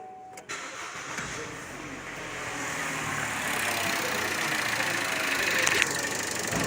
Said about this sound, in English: we're gonna go and restart the car